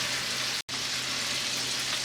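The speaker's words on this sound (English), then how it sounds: "I've been frying my shrimp for like 5 minutes" Shrimp frying in a pan for noodles, a steady close hiss and sizzle of hot oil with a brief cut, no talk over it.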